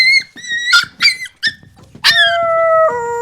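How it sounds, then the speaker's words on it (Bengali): A dog whimpers and cries up close, with a run of short high squeaky yelps followed by longer wavering whines that trail off, loud and alone. "কুকুরের কান্নার শব্দ বিরক্ত লাগে।"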